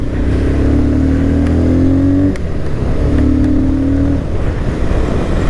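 A new motorcycle's engine hums and revs while riding with a passenger on the back, a loud steady drone rising in pitch, dropping briefly, then climbing again amid wind rush.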